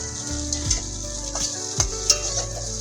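Soybean chunks and potatoes fry in a pan with a constant sizzle, while a utensil scrapes and knocks against the pan several times at an irregular pace, with no talking.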